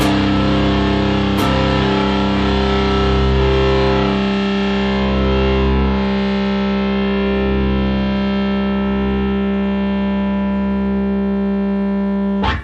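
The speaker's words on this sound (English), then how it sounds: "I hear all 3 pitches equally within the distorted sound" A thick fuzz-distorted guitar chord rings out alone, sustaining for several seconds with a slow, even decay and no voices.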